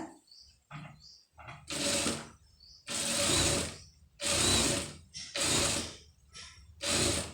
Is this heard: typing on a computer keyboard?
no